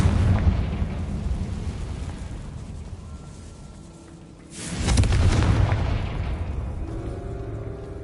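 A Confringo blasting spell goes off in Hogwarts Legacy, a loud rumbling boom that swells over a continuous low roar and then trails off into a sustained rumble.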